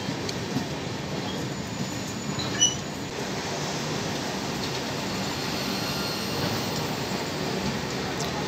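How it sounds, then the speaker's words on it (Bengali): Mithila Express pulling into Durgapur station: a steady low rumble of the train rolling in, with a brief clank near the middle and a faint high squeal above the drone. "আমাদের ট্রেন এসে পৌঁছচ্ছে দুর্গাপুর স্টেশন"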